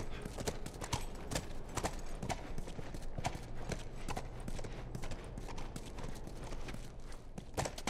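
Horse hooves clip-clop steadily in The Last of Us video game, a continuous walking rhythm of clear hoof strikes over a low ambient bed, fairly close and prominent, with no speech.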